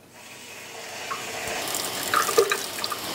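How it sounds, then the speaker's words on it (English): Water runs steadily from a household faucet, a close, continuous splashing stream that grows slightly louder, with a few small drips and clinks near the end. "keep one faucet on in your house with water coming out the width of a"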